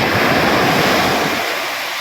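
Big ocean waves around a fishing boat at sea, a loud broad rushing wash with wind buffeting the microphone, easing slightly toward the end.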